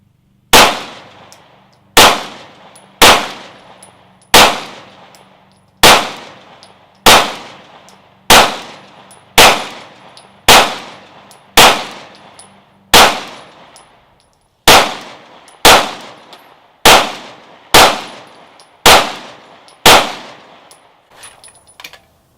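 A Glock Gen 5 pistol fires about nineteen loud, sharp shots in a steady, evenly spaced rhythm, each crack trailing off quickly with no talk over the shooting.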